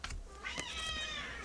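A house cat meows once in a drawn-out, rising-then-falling cry, close and clear, with a brief softer sound just before it and no talking.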